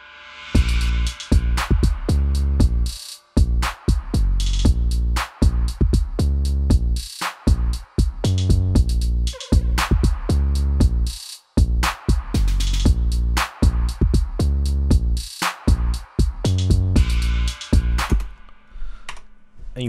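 A trap drum beat programmed in FL Studio, with punchy booming kicks, snappy hits and rapid ticking hi-hats in a steady driving pattern, loud and alone with no voices.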